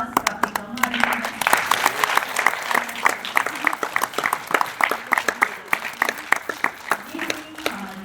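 Audience applause at a stage performance, a steady run of claps from a modest crowd with a few murmuring voices, lively in the middle and tapering toward the end.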